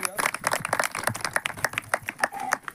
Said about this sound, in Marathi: सर्वांच्या मान्यवरांसाठी आपण एकदा जोरदार टाळ्या वाजवूया